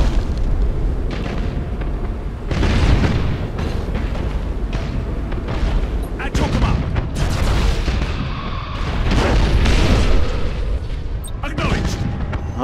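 Imperial Navy spaceship cannon fire against a Chaos fleet in a space battle in Battlefleet Gothic: Armada, a dense barrage of deep booms and blasts over a continuous rumble, with voice lines mixed in.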